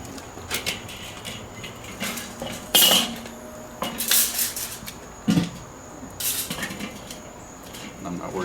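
A metal grate is lifted off a charcoal grill where ribeye steak is cooking outdoors, giving a few sharp metallic clanks and scrapes spread over several seconds, with quieter rattles between them.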